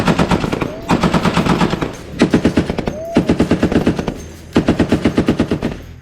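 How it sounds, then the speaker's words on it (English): Small arms and crew-served machine guns firing pre-fire checks aboard a Navy destroyer, loud close bursts of rapid shots in several strings separated by brief pauses. "Anything in our job that we shoot, we always have to do pre-fires."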